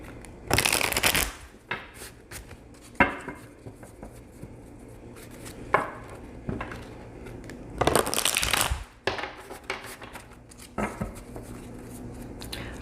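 Tarot cards shuffled in a quiet room, with bursts of riffling and rapid flutters around 1, 3, 6, 8 and 11 seconds and softer shuffling and sliding in between, close and distinct.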